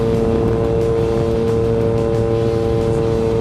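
Cars stream steadily past on a road at night during a motorcycle ride, a continuous loud rush of passing traffic mixed with steady engine drone and wind noise, unbroken throughout.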